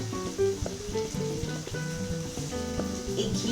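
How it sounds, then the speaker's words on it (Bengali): Ghee hitting a hot kadhai of chicken, giving a steady crackling sizzle with bubbling spatters throughout, close and fairly loud, with no talking. "এবার এখানে আমি দিয়ে দেব 1 চামচ ঘি।"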